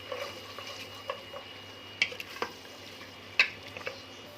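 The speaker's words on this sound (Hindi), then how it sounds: "तो प्याज डाल के हमने इसे लाइट ब्राउन कर लेना है" Onions frying in hot ghee, a soft steady sizzle under occasional clinks and scrapes of a spoon stirring the pan, quiet and close.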